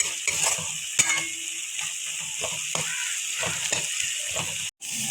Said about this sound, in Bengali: এখন ভালো করে মশলার সাথে টমেটো কষিয়ে নেব